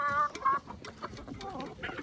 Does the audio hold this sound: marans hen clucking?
yes